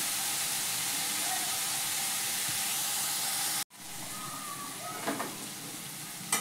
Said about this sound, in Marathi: अशी बारीक गॅसवर आता आपण ही शिजवून घेऊया